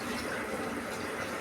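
Measured water pours from a tumbler into soaked rice for biryani, a brief continuous gushing splash heard close up.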